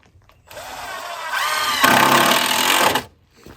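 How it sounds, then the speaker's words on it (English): A power drill drives screws into deck boards, one close whirring run of about two and a half seconds whose pitch climbs as the motor spins up, then cuts off. "now we're getting ready to put in some screws"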